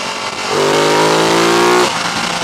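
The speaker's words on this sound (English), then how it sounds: "when you crack the throttle open, you do get a little bit more lairiness" A 2015 Ducati Multistrada motorcycle accelerates hard with the throttle opened, its engine note climbing steadily in pitch for over a second, loud and close, before easing off.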